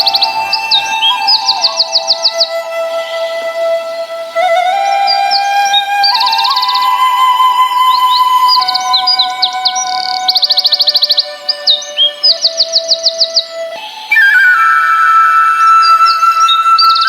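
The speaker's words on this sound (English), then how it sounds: "Now here we can see different kinds of birds like parrot, parakeet, dove," Birds such as parrots, parakeets, doves and peacocks chirp and sing on a nature walk, with loud, bright trills and whistles overlapping continuously up close.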